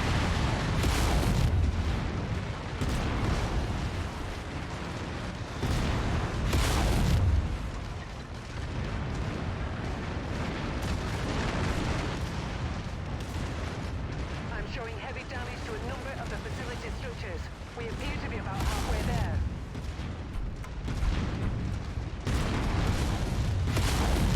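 Mech weapons in MechWarrior 5 Mercenaries fire repeatedly in loud booming bursts and heavy explosions, dense and continuous throughout, with a voice talking over the battle.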